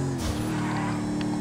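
A car with a huge exposed motor drifting in GTA, its engine droning steadily and close throughout, with a brief swell of tyre scrub and a faint squeal layered over the constant hum.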